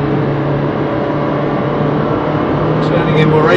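A race car on a wet, drying circuit at Brands Hatch Indy, its engine a steady, loud drone that builds gently as power is fed in, with a rising whine near the end.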